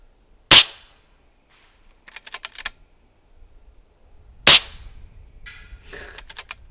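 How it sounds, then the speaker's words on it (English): Two sharp air gun shots fired at a target 170 yards away outdoors, each a loud crisp crack followed by faint, distant ticking and rustling. "All the way out to 170 yards with an air gun."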